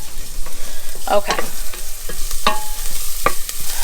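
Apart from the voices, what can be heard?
garlic sizzling in a pan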